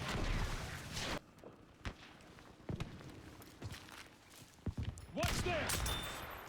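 Sniper rifle shots in the game Battlefield 5, a few sharp separate cracks spaced across the stretch amid loud battle noise and footsteps, with someone talking in between.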